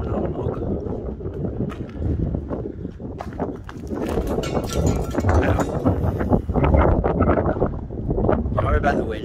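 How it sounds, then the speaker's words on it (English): Strong gusty wind buffeting a microphone outdoors at cooling towers, a rough, blustery roar rising and falling throughout with heavy low rumble, mixed with a voice speaking. "Sorry about the wind."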